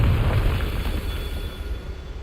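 A Confringo fire spell in Hogwarts Legacy on PS5 lands as a deep, rumbling blast, loud and low at the start, then trailing off into a sustained roar that slowly fades.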